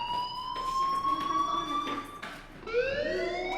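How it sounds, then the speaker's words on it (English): A fire alarm blares in the video game Life Is Strange, a loud steady electronic siren tone with wavering pitch that briefly drops and resumes, filling the whole clip with no speech over it. "Hey, do you hear that fire alarm?"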